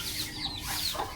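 Native chickens cluck steadily up close, a busy overlapping stream of clucks and chatter from the flock with no one talking.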